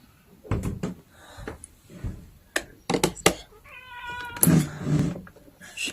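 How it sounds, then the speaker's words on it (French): A small cat meows several times in a short series of distinct calls, close by and clear, with a door or drawer knocking now and then in between. "Le petit chat."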